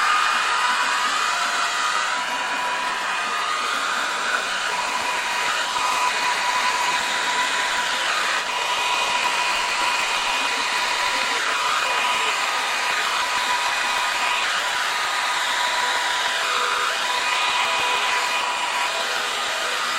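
A hair dryer blows steadily on a boat hull with a constant whooshing hum and a faint high whine, close by and unbroken for the whole stretch, with no voices.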